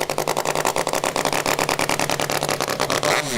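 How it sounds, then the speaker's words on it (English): Rotary-engine chainsaw warming up at a timbersports championship, a steady rapid buzzing idle with pulsing firing beats, loud and close, with a brief rev near the end. "Warm up your saw."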